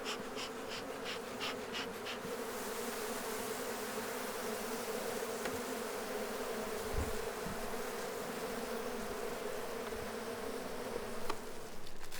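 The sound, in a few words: honeybees buzzing in a hive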